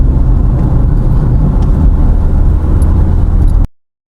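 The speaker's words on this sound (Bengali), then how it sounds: "এখন আমরা ন্যাশনাল হাইওয়ে নম্বর 18 দিয়ে যাচ্ছি।" Car driving along National Highway 18, a loud steady road and engine rumble with continuous tyre noise heard from inside, cutting off abruptly near the end.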